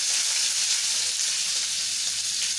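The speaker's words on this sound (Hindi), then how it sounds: "अब इसमें हम प्याज को डाल देते हैं" Chopped onions hitting hot oil with mustard seeds, a dense, even sizzle and crackle of frying for a few seconds, close and alone without voices.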